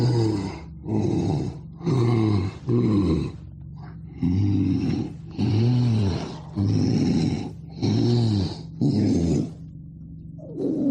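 A voice imitates the rattling snore of a dying person, eight slow, loud, drawn-out guttural snores, each lasting about a second, evenly spaced with brief silent gaps.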